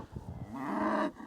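A traditional Hereford cow on a beef farm gives one long, loud, close moo lasting about half a second, preceded by faint rustling and low background noise.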